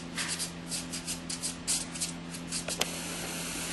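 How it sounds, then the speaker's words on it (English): A nail buffer rubs back and forth across a fingernail in quick, close, rhythmic strokes, a soft scratchy swish repeated many times before it stops. "So now I'm going to buff the nail"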